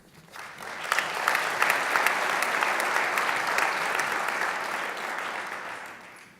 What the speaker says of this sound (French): Merci pour vos applaudissements qui encouragent ces jeunes